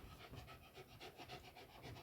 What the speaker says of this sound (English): So forgive the heavy breathing. My brother's dog is over there.